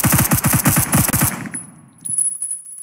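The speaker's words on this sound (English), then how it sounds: "gosh, I'm being shot at" Rapid automatic gunfire in the Roblox first-person shooter Phantom Forces, a loud burst of about a dozen close shots lasting just over a second, followed by a fading tail and faint distant ambience.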